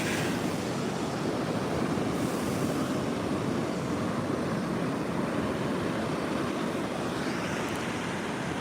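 Large storm-driven ocean waves from Hurricane Erin break steadily onto Bethany Beach in Delaware, a continuous loud roar of surf mixed with gusting wind across the microphone and no voices.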